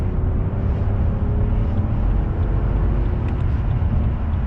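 A straight-piped BMW V12 limousine engine at full throttle on a motorway, a steady deep, loud growl of engine and road roar holding constant throughout with no talking.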